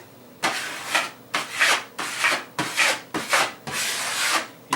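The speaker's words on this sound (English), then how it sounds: "I'm just going to wipe off the excess." Repeated rhythmic scraping strokes as excess drywall compound is wiped off a wall patch, about seven close, even passes with short gaps between them.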